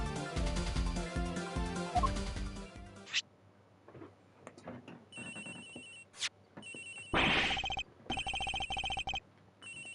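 Phone ringtone ringing repeatedly in the Ace Attorney Investigations video game, heard after a stretch of music, with bursts of ringing separated by short gaps and small ticking game sounds between them.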